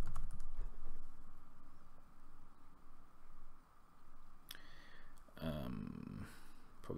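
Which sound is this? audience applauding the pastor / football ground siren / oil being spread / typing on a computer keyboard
typing on a computer keyboard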